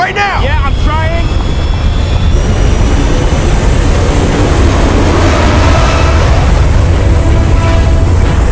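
A plane's engines roaring in flight, a loud, constant rumble that fills the whole stretch, with a brief whining tone near the start and a shouting voice in the scene.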